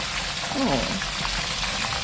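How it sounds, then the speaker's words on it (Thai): Large pieces of fish fry in a pan with a steady, close sizzling hiss. A brief voice sounds partway through. "เนื้อปลาชิ้นบักใหญ่ตัวพอลงกระทะทอด"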